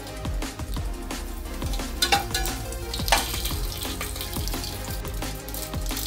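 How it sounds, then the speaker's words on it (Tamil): Mustard seeds and urad dal sputter in hot oil, a dense close crackle of quick pops over a continuous frying hiss, busy and steady throughout with no voices. "எண்ணெய் காஞ்ச உடனே கடுகு உளுத்தம் பருப்பை போட்டுருவோம்"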